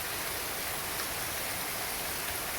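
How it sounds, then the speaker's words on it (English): Sandpaper of 400 grit rubs over paint drips on a 3D printed R2D2 model, a steady, even hiss of abrasion held close and quiet, with no pause or talk. "I'm sanding down the drips"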